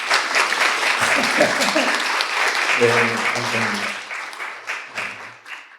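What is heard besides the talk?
congregation applause for mothers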